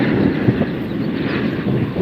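A Southwest airliner crossing in front at Las Vegas airport, heard as a steady broadband jet rumble with wind buffeting the microphone, continuous and fairly loud throughout.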